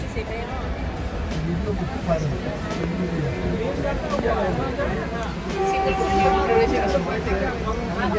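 A passenger train travels between stations with a steady rolling rumble and clatter inside the coach, while people talk over it throughout.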